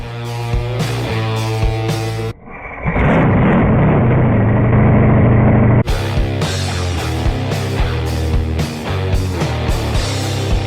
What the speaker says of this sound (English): a crazy two-wheeled machine powered by a real aviation engine